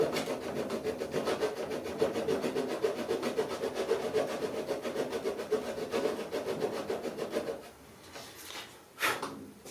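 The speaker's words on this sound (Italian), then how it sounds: "facciamo una piccola incisione con sempre con la sega giapponese" A Japanese pull saw makes a small cut in wood on an inlaid rosewood drawer, quick, even rasping strokes for several seconds, close up, then stops, followed by a couple of faint scrapes.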